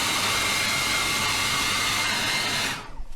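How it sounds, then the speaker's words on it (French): A hair dryer blows with a steady, loud, close whoosh in the middle of a screen-printing session, then is switched off near the end and spins down into quiet. "le sèche-cheveux."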